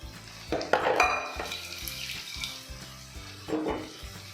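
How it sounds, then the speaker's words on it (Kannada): Boiled beans frying in a pan sizzle softly beneath repeated spatula scrapes and metallic clinks as they are stirred, in irregular bursts at close range. "ಇದರಲ್ಲಿ ಬೀನ್ಸ್ ಹಾಕಿದ್ಮೇಲೆ 1-2 ನಿಮಿಷ ಚೆನ್ನಾಗಿ ಫ್ರೈ ಮಾಡ್ಕೋಬೇಕು."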